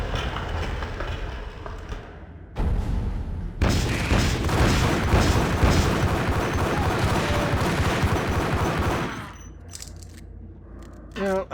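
Gunfire from a shootout with mobsters in the video game Max Payne, a dense, loud barrage of shots and booms filling most of the span before cutting off into quieter background.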